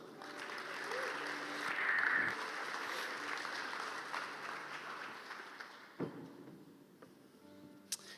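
A church congregation at an Easter weekend evening service applauds, a sustained wash of many clapping hands that swells and then thins out, with a few stray louder claps near the end.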